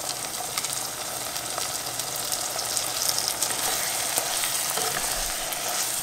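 Steady, close sizzling and crackling of corned beef frying in butter in a pan, continuous throughout with occasional small pops.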